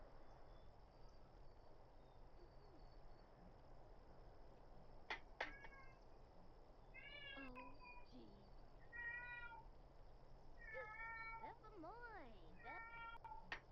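A pet cat in The Sims 4 meows repeatedly in the second half, with several drawn-out, rising and falling cries spaced a second or two apart over a quiet, steady background hum.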